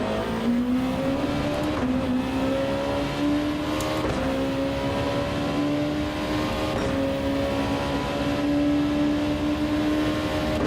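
A Honda race car engine in Gran Turismo 7 at Suzuka holds a high, steady whine, pitch creeping upward through long pulls with brief dips at gear changes, loud and continuous with no talking.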